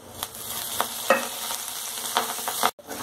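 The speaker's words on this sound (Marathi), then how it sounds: "आधी कोरडंच भाजायचं, नंतर तेल घालायचं, म्हणजे छान भाजलं जातं।" Green chilli pieces dry-roast in a kadhai for a green bean thecha, a soft, close crackle with several quick stirring scrapes over about three seconds before a sudden pause.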